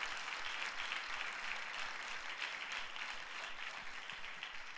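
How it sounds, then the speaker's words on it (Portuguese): Church congregation applauds, a faint, distant wash of steady clapping that holds evenly without voices. "Então dá um aplauso ao Senhor Jesus."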